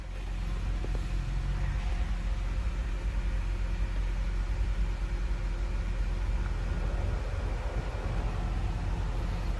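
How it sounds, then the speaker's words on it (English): Climate control fan blowing warm air through the vents of an idling Dodge car with a plugged heater core, a steady broadband rushing whoosh with a low engine hum underneath, constant and close, without talk. "getting this vehicle warm, we're gonna have to turn on our climate control"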